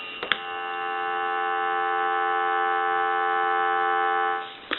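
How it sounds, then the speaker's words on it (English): A steady dial tone from a Northern Electric N233H three-slot payphone hums continuously for several seconds, framed by faint clicks at the start and end. "I'll give you some dial tone."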